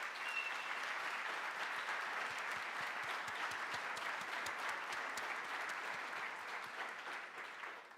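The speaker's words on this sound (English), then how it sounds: "give a round of applause to these amazing nursing faculty" Sustained applause fills a nursing pinning ceremony hall for the nursing faculty, with dense, even clapping that runs for several seconds and then tapers off slightly at the end.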